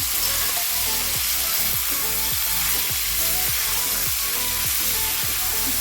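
Steady, loud sizzling of pumpkin sautéing in a pan with turmeric and salt, with rhythmic stirring scrapes repeating about once a second throughout.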